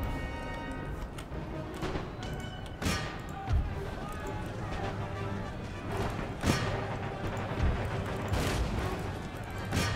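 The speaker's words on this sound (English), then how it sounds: "Yeah, the rocket troop is firing." Rocket troop and artillery firing in the video game Empire: Total War, a battle din of repeated booms and crackling volleys spread through the scene over a steady rumble, with some speech mixed in.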